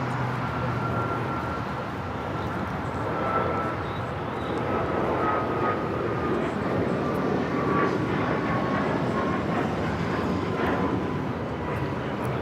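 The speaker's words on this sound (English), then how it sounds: "United Airlines 502 taking off to Phoenix on the MAX 9." A United Boeing 737 MAX 9 takes off at LAX, its engines a steady, loud broadband roar lasting several seconds, with a faint whine and muffled radio chatter beneath.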